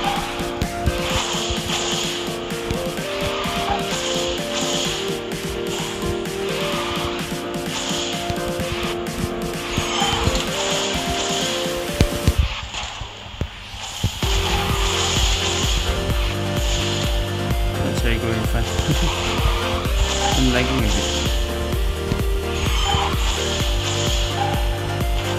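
Game audio from the racing game Garena Speed Drifters, with a kart engine droning and whining over upbeat music, a short crash-like break near the middle, then steady engine tone resuming under the soundtrack.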